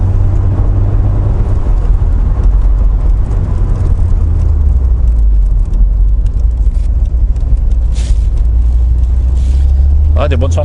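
A Mercedes SLK two-seater accelerates with a steady, loud engine rumble heard from inside the car, while people talk over it throughout.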